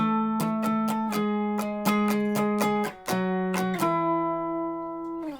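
An electric guitar plays a riff of plucked octave notes from a song in a steady rhythm, repeating a short pattern before the last note rings out and fades.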